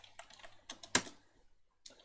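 Computer keyboard keys tapped in a quick, close burst of a few strokes, one louder hit, then a short pause and a final keystroke; no voices.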